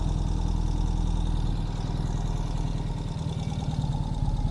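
A 2021 Ural Gear Up Heritage sidecar motorcycle engine idles steadily at close range, a low, even, throbbing rumble that holds constant throughout with no voices.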